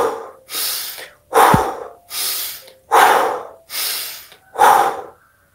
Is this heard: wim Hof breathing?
yes